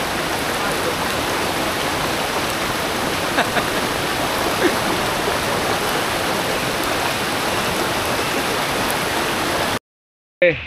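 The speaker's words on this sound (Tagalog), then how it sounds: "Lakas ng ulan, lakas ng ulan." Heavy rain pours in a dense, steady roar throughout, loud and close, at a campsite, then cuts off abruptly near the end.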